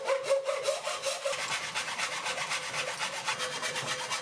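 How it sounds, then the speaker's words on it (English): A hacksaw cuts plastic light-panel diffuser channel sections in fast, even back-and-forth strokes, each one a close, raspy scrape. "They come in 1 meter long sections and cut very easily with a hacksaw"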